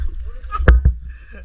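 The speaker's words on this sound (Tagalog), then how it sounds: "bangka" A small bangka boat sits on the water, with two close, low knocks against the hull over a soft, rumbling wash and faint voices nearby.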